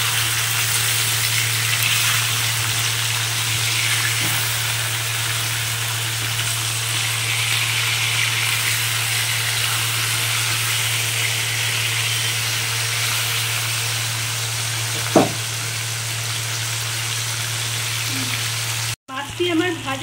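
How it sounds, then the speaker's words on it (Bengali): Pomfret fish frying in hot oil in a wok after being turned over, a continuous close sizzle and hiss with a sharp clink near the end and a steady low hum beneath. "এবার আমি মাছটাকে উল্টে দিচ্ছি।"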